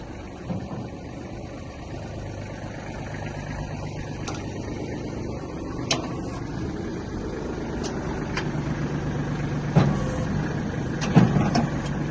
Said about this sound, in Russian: Покажем работу фрезы, подъем, опускание.